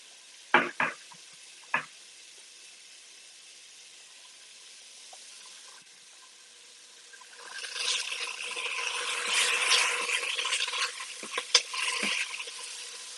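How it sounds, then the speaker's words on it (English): Vegetables stirred in a hot pan for a vegan pasta bolognese, with a few sharp utensil knocks at the start, then a steady wet sizzle and scraping rising in the second half. "Stirring them so they don't burn."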